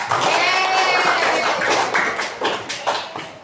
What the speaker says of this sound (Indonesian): kita beri tepuk tangan untuk Anin dan Kanza